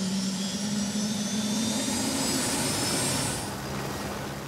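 An aircraft engine drones steadily and loudly, most likely a helicopter in flight heard from up close, continuous and fairly even with no talking.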